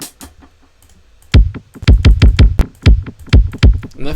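Kick drum sample played in a loop with a low-pass filter lowered, giving dull, rounded thumps in a steady repeating beat, close and loud with no voices.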